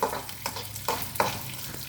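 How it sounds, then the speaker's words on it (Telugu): A tempering of garlic and dried red chillies crackling in hot oil, with spoon scrapes stirring the pan at a fairly even pace over a soft sizzle. "చూసారు కదా పోపు వేగింది"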